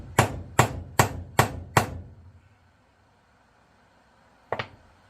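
A vintage Ocean City 1800 fishing reel is struck with a non-marring hammer, five sharp, evenly spaced taps in quick succession, then a pause and one more tap, close and loud.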